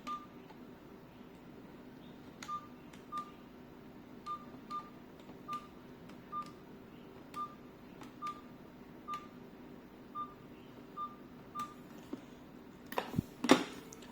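Clear, evenly spaced dialing beeps from a GSM ECG-900 fixed wireless phone, about a dozen short tones ticking off at a steady pace, followed by a brief louder clatter at the end.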